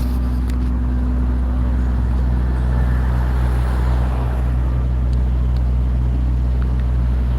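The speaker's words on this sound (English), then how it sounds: "Good old New York. Tons of traffic." Steady New York City street traffic along the Macy's Thanksgiving Day Parade route: a continuous broad roar of engines and tires with a constant low hum, evenly loud throughout and without distinct horns or voices.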